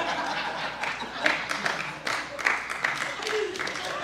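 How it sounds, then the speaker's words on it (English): A church congregation claps in a faint, somewhat rhythmic pattern, with voices talking over it. "They clapping."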